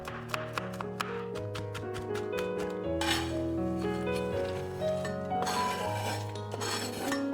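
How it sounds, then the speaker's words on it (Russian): Quick rhythmic knife taps chopping walnuts on a cutting board, crisp and close, heard over steady background music with tonal notes. "Грецкие орехи слегка рубим и тоже добавляем в салат."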